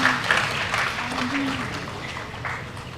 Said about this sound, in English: Please keep applauding.